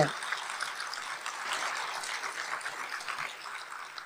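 An audience claps together in a dense, continuous patter of many hands, fairly loud and even for several seconds with no talk over it.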